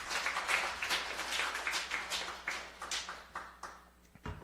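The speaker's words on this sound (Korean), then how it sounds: "참 아버님께 위로의 박수 올려드리겠습니다." A congregation applauding during a church worship service, a steady wash of many hands clapping at moderate distance, fading out toward the end.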